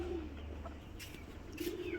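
Pigeons at a pigeon house on a farm in Savar, Dhaka, give faint low coos at the start and again near the end, over a quiet steady background hum.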